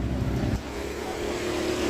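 A Yamaha Mio i125 scooter with lost compression is kick-started: a steady, close low engine chug runs throughout, with a brief heavier burst near the start.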